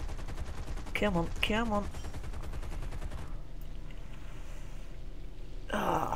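Aircraft machine guns fire in rapid, steady bursts in the War Thunder air combat game, loud and continuous for a few seconds, pausing and then resuming, while a player speaks briefly over the firing.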